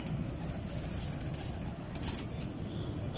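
Pedigree pigeons kept by a breeder, soft low cooing close by with faint wing flutters and background hiss, no one speaking.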